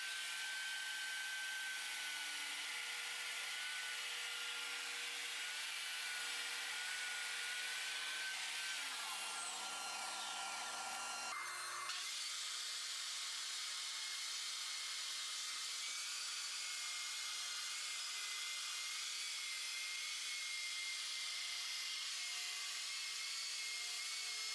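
A table saw rips sheet goods into torsion box grid strips, producing a steady, loud whining roar that changes pitch partway through as the blade works through the panel, with no talking.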